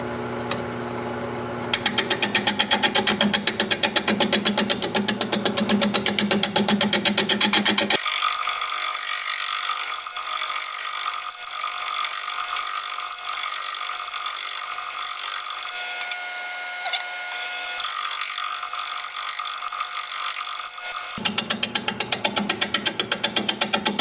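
Shear scraping on an oak burl spinning on a wood lathe: a dense, continuous scraping and whirring that shifts in tone partway through and stays loud and close throughout.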